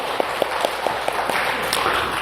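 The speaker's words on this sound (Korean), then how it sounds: "영광의 박수를 주님께 돌리십시다." A church congregation claps during a Sunday service, with a few distinct claps at first and then a fuller, even patter of applause filling the room.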